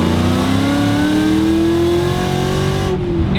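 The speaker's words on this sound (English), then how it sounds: "you can't go wrong with the sound of a Terminator Cobra's engine" Fox body Mustang with a supercharged Terminator Cobra engine accelerating hard, a loud close roar with a steadily rising pitch through one long pull before the throttle lifts.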